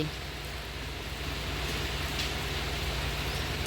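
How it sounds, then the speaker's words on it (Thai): Steady rain pours down in a continuous wash of noise, with a low hum underneath and no pauses throughout. "ฝนกระตกบ้านนี้พี่น้อง"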